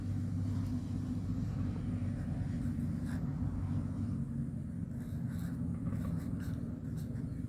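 Ballpoint pen writing on paper, a steady continuous scratching under a strong low rumble, close and fairly constant throughout.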